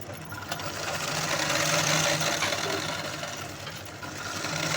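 Sewing machine stitches a blouse seam in a steady, continuous rapid whir and rattle, close and unbroken throughout.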